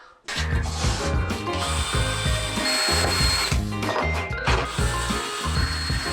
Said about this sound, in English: We'll have to start drilling our holes where we can screw it onto the panel of the van